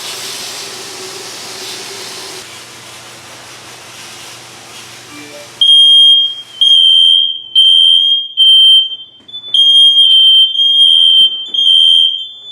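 A First Alert smoke alarm blares in loud, repeated high-pitched beeps in bursts of roughly a second, following a stretch of hissing background noise.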